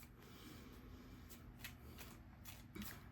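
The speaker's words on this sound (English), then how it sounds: "I just shuffle my cards" Tarot cards being shuffled by hand, a soft continuous riffling and sliding with a few sharper flicks, faint and close over steady low background noise.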